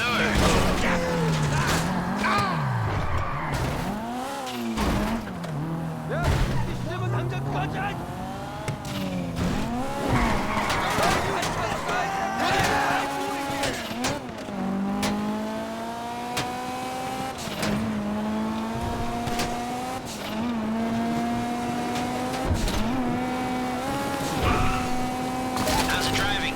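A heist car in GTA V drives with a steady engine drone that rises and falls as it revs and shifts, with occasional tire squeals and game effects, while people talk over it throughout.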